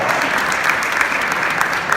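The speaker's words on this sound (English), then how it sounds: "everybody give a big round of applause to all the members that are volunteering and helping out here tonight" Steady audience applause at an evening jazz community awards event, a dense even clapping sustained throughout without voices on top.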